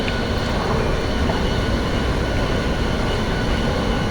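A loud, steady rumble and roar of a Washington Metro train in an underground station, continuous and close with no break.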